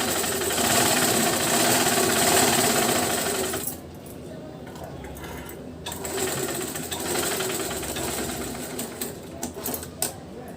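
A sewing machine stitches a double katori blouse, running as a loud, steady close-up whir and rattle for about four seconds. It then drops to quieter, intermittent stitching and clicks, with no talk.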